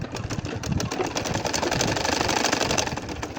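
Sewing machine running steadily while stitching a nakshi kantha quilt, a continuous close, fairly loud mechanical whirr with rapid needle clatter throughout, no talking.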